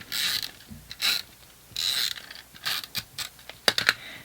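A tape runner laying adhesive tape onto a flat paper panel for a snowflake triangle gift box, heard close as several short crackly, ratcheting bursts separated by brief pauses, with no talking.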